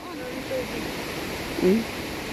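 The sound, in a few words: rushing river water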